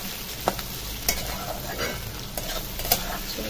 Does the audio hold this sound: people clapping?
no